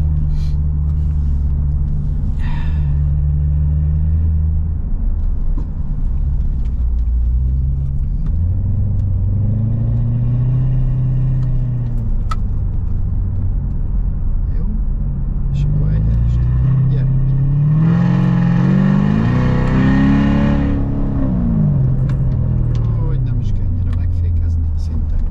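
A Chevrolet Corvette C7 on a race track rumbles and revs, engine pitch rising and falling through acceleration and braking, loud and close under a driving instructor's continuous talk.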